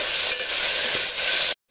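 Onion, ginger-garlic and green chillies sauté in a pan for a seeraga samba vegetable pulao, giving a loud steady sizzle that cuts off abruptly, with no speech.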